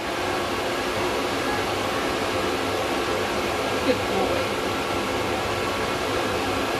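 Steady broadband blowing air from a hair dryer drying a dog runs throughout, with a brief voice speaking softly over it.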